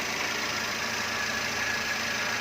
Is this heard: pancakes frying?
no